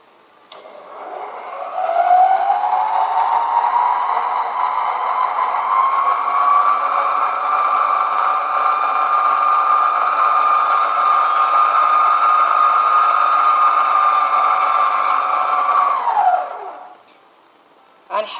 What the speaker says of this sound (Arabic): هسه حشغل الخلاط.